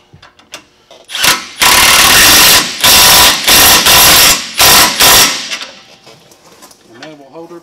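An impact tool tightens a bolt on a Ford F-150 during a leveling kit install, firing in several loud rattling bursts separated by brief pauses, with a few clicks before and after.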